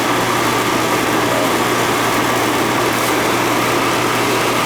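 An old air conditioning unit with a failing capacitor runs steadily, giving a loud, continuous broadband hum and whir with a low tonal drone, unchanging throughout and with no voices.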